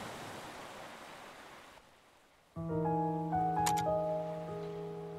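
Ocean waves from the video game To The Moon wash as a broad, steady surf hiss for about two seconds, then fade away as tonal game music with sustained notes takes over.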